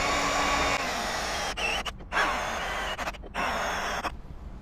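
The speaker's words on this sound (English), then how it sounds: "I need to use a step bit and just drill it out" Step drill bit boring out holes in a strut housing during suspension work on a 1980s BMW E24 635CSi; a steady, loud whirring grind runs in bursts, with several short pauses between passes.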